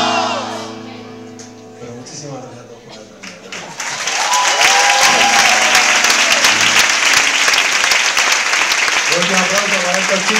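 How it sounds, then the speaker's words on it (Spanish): At a concert a crowd breaks into loud, sustained clapping and cheering that starts after a few seconds of a voice, then a voice returns over the applause near the end. "aplauso increíble, señor."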